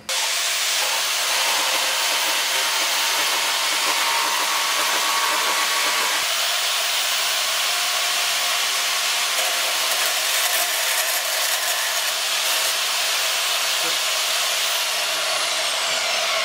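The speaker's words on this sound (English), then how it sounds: "So we're going to get this cut on the bandsaw and then we'll be back." A bandsaw cuts through a metal no-parking sign plate for a four-wheeler street-legal kit, giving a loud, steady hissing whine that runs unbroken for the whole stretch with no talking.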